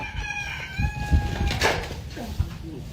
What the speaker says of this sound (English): What is wrong with this chicken?